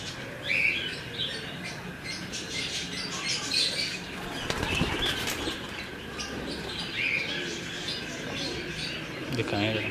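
Breeder pigeons flap their wings in brisk, rustling bursts nearby, against a busy background of faint chirps and murmuring voices.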